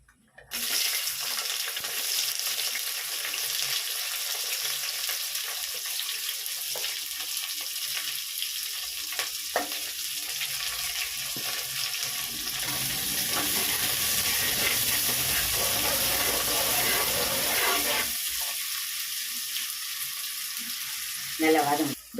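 Onions and green chilli fry in oil for biryani, a steady loud sizzle and hiss that runs unbroken for over twenty seconds, with occasional stirring scrapes in the pan.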